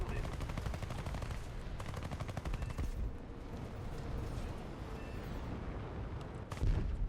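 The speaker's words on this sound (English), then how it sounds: "Run out of ammo. I need to burst fire more." Repeated machine gun bursts fired in War Thunder, loud and close, short rapid volleys with a heavy boom near the end.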